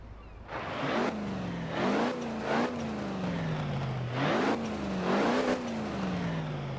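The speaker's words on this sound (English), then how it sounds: "Gotta say, it sounds pretty nasty for a diesel." The diesel engine of an H1 Open Top in Forza Horizon 4 revs repeatedly, climbing sharply then dropping back in several loud, rough, close-up surges with gear shifts between them.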